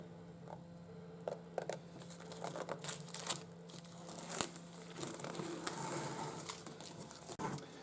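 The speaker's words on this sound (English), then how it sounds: "I'm going to peel off the bit I don't need" Protective film peeled from a panel during a London taxi conversion, giving soft crinkling and tearing crackles up close, irregular and fairly quiet over a low background hum.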